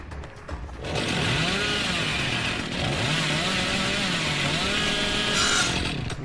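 A revving chainsaw from the game Dead by Daylight roars up and holds a loud, steady drone with wavering pitch and brief dips, close and alone without speech.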